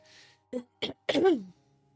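A video game character in Love and Deepspace coughs: a few short, rough cough bursts separated by brief pauses, ending in a longer strained cough that trails off.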